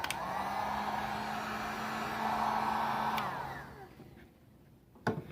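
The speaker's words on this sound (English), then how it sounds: "This heat gun was, I think, 15 or 20 bucks at Harbor Freight, and it works pretty stinking good." A cheap Harbor Freight heat gun blows hot air with a steady, loud whooshing hum for about three seconds, then cuts off and winds down into quiet, with a short knock near the end.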